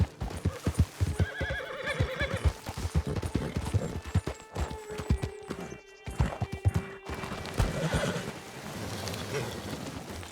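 Rapid hoofbeats of a horse galloping in the video game Red Dead Redemption 2 pound across rough hilly ground, with a loud horse whinny partway through and a brief pause before the galloping resumes.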